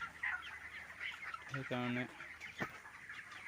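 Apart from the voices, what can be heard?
chickens clucking on a poultry farm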